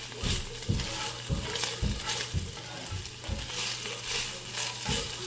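Beef steak for bistec ranchero frying and browning in a hot pan: a steady close sizzle with repeated stirring scrapes and clinks at an even rhythm, no voices.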